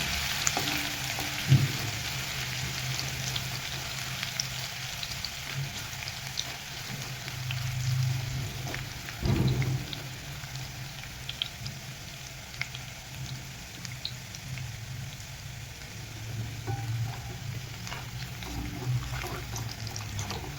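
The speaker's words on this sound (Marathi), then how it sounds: "आपण आता खूप सारा लसूण टाकूया याच्यामध्ये आणि याला आपण कलर चांगला चेंज होईपर्यंत परतून घ्यायचा आहे" Lots of garlic sizzling and frying in oil in a pan while cooking a spinach and dill greens dish, a steady soft crackle with occasional stirring bumps, close and moderately quiet.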